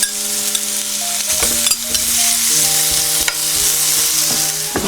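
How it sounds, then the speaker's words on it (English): Potato pieces frying at the side of a pan over medium heat, a close, steady sizzle with crackling pops and bursts throughout. "I'm going to fry a couple pieces of the potatoes at the side here"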